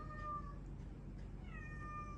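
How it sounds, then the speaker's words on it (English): A house cat meows twice, drawn-out and plaintive, fairly faint against a quiet indoor background with low hum. "That's my cat."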